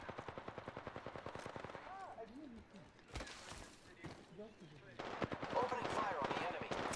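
Rapid automatic gunfire in the Apex Legends video game: sustained bursts at the start and end, with scattered shots and other game effects in between, under occasional quiet talk.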